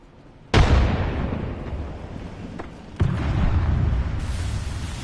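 A frag grenade goes off in a first-person shooter game, a sudden loud boom at about half a second followed by a long rumbling decay, then a second heavy blast near the three-second mark that rolls on to the end.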